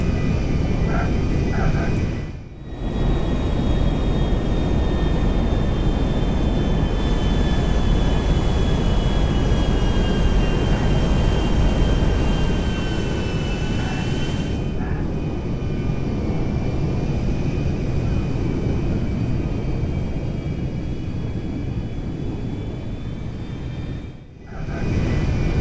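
A Boeing 747 jumbo jet in GTA 5 roars in on landing, a loud sustained jet engine drone with a whining tone that stays steady for over twenty seconds, broken only by two brief dips.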